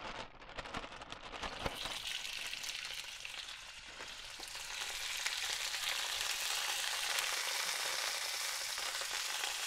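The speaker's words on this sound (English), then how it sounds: "Now we're going to add the marinated shrimp to the pan." Marinated shrimp frying in olive oil in a pan over medium-high heat, a steady broadband sizzle that swells louder partway through and holds without pause, no voices.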